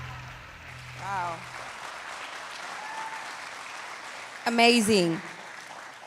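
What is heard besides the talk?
audience applause and cheering at youth summit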